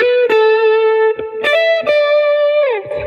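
A distorted lead melody plays sustained notes, each preceded by quick short grace notes, ending with a downward pitch slide.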